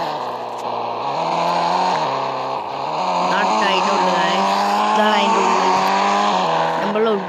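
Engine of a Rolls-Royce car in a driving video game, a steady droning hum that rises and shifts in pitch throughout, with someone talking over it the whole time.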